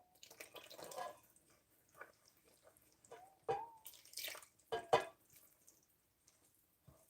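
Liquid is poured gradually into dry pancake ingredients with coconut milk nearby, giving soft intermittent splashes and drips in short bursts, each fairly close and quiet, with pauses between pours.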